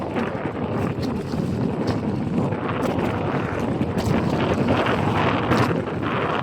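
Strong sea waves heard from aboard a boat, a dense continuous rushing roar mixed with wind buffeting the microphone, loud and unbroken throughout, with no speech.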